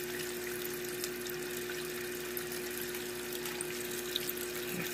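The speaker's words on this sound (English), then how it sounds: "Filling up the water again and" A Haier XQBM22-C compact portable washing machine fills with water, a steady rushing flow over a constant pump hum, close and continuous with no voices.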